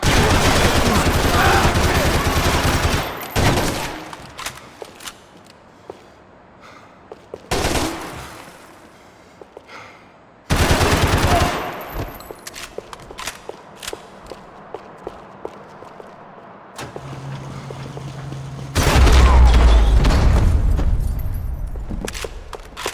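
Gunfire in the video game Max Payne 3, with loud rapid bursts and single shots, explosive booms and footsteps, broken by quieter stretches and a deep rumbling blast near the end, with voices shouting at times.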